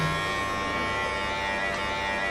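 Electric trimmer cutting through a dog's coat during at-home grooming, a steady, close buzzing drone that holds unbroken throughout with no voices.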